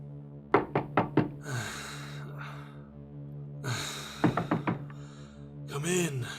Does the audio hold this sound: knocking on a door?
yes